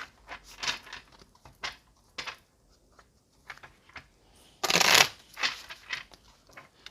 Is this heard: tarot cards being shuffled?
yes